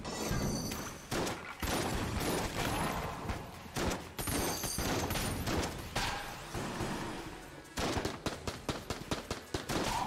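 The Tangler gun in Enter the Gungeon fires loud, dense bursts again and again, breaking off in short pauses and then returning as a rapid string of separate shots near the end, with no talking.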